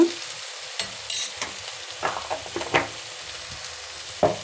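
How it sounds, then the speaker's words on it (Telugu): Ginger garlic paste is stirred and fried in a pan with green chillies, giving intermittent scraping stirs and soft sizzle bursts at close range, with no talk. "ఇప్పుడు ఒకసారి బాగా కలుపుకుందాము ఒక ఐదు నిమిషాలు ఫ్రై చేసుకుంటే చాలు"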